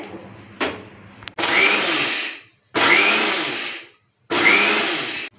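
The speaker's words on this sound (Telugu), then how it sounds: "ఇప్పుడు మిక్సీ పట్టుకుందాం" A kitchen mixer grinder whirs through sesame seeds in three loud pulses of about a second each, with short silences between runs as it is switched on and off.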